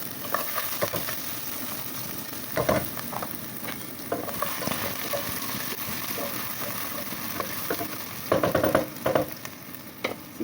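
Onions frying in hot cooking oil in a pan and being stirred, a steady crackling sizzle throughout with intermittent scraping and clattering stir strokes, loudest near the end.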